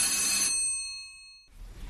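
A doorbell rings once with a bright, metallic chime that decays slowly into silence before faint room noise returns.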